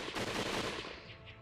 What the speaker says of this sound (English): more gunfire came ringing from the distance